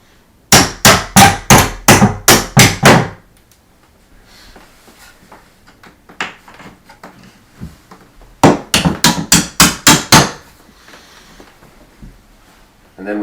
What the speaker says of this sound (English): Might take a little bit of wiggling to get the pin back into the hinge.